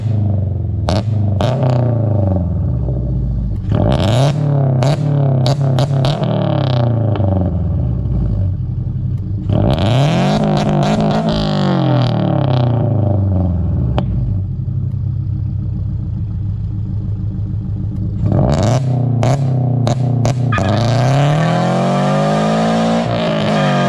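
Tuned Toyota GR86 engine revving hard and launching, loud and close. Repeated sweeping climbs and drops in pitch come in several bursts with clattering pops in between, and one long pull builds at the end.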